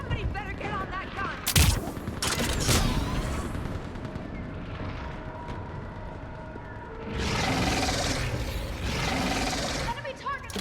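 A mounted gun fires in the Mass Effect video game, a sustained rattling barrage with sharp loud bursts near the start and a second heavy stretch later, mixed with battle noise and the voices of people talking.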